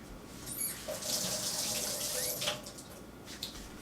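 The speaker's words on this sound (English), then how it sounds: "Let me rinse my hand off real quick." A hand is rinsed under a running tap in a sink, a steady stream of water with splashing where the hand meets the flow, heard close up.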